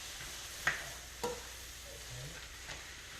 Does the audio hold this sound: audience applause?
no